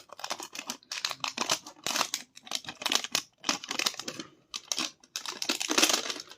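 Packaging from a Crash Bandicoot Smash Box collectible unboxing being cut and crinkled, with repeated close bursts of snipping and rustling separated by short pauses, no voices.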